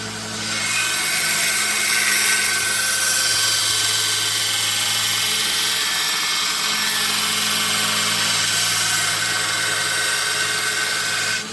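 A belt grinder grinds steadily on a knife blade made from a file, giving a loud, continuous abrasive whine with a constant motor drone, close up and uninterrupted by talk.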